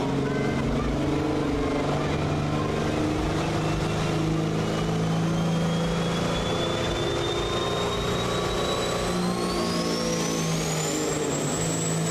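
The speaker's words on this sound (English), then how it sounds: "Here comes the 77 Peterbilt with a Caterpillar 3406 motor" A 1977 Peterbilt truck with a Caterpillar 3406 engine competes at a county fair truck pull, roaring steadily and loudly the whole time as the engine pitch climbs. Crowd or announcer noise sits faintly beneath.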